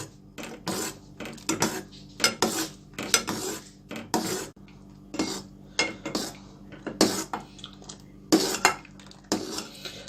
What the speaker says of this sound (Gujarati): આપણે 10 મિનિટ થઈ ગઈ છે આ મિક્સરને કન્ટિન્યુ સ્ટર કરતા